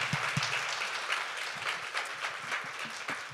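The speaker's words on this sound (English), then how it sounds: "Give a round of applause to these amazing," A small audience at a panel on Native women's creativity and entrepreneurship claps for the women panelists, with light, uneven claps and a few distinct nearby hits.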